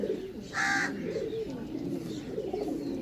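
Pigeons kept for sale in Shahdara, Lahore, cooing softly in low, rolling murmurs throughout, with a brief brighter bird call early on, nearby and steady.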